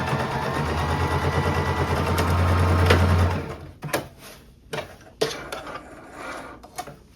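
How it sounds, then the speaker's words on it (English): A sewing machine stitches fabric for a top made from a thrifted skirt, running in a steady loud whir for about three seconds, then stopping and giving way to handling clicks and rustles. "And now I can just sew right along this part here."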